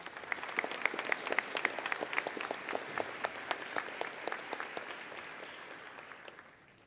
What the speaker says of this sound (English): Let's give all of our athletes a round of applause.